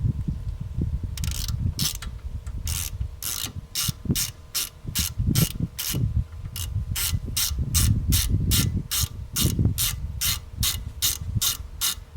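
A ratchet unscrews a bolt while a Cadillac CTS brake caliper is being removed, with rapid, evenly spaced pawl clicks repeating close up over a low background rumble.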